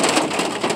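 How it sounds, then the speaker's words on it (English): Heavy rain near a train station, a dense, loud, continuous wash of falling water close by, with no talking. "it is raining. You can see. You can hear it, too."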